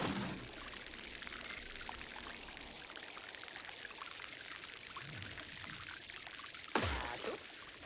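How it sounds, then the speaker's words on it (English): A watering can pours water onto dry melons in a farming video game, a steady quiet trickling stream that runs continuously, with a brief louder splash near the end. "Take that watering can of yours and drench these dry melons."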